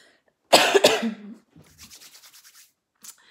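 One harsh, loud cough bursts out up close, followed by softer breathy rasping and a brief faint sound at the end.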